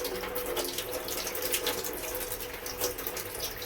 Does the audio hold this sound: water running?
yes